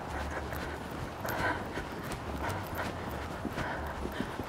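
A horse cantering, with soft rhythmic hoofbeats clip-clopping on the ground at moderate distance, fairly faint and steady throughout the short stretch, with no one talking.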